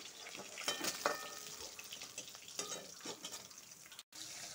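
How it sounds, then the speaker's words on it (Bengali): Sea fish pieces fry a few at a time in a pan, continuous gentle sizzling with bursts of crackle and spatter, a brief cut near the end, heard alone at low level. "কম কম করে ভেজে নিব।"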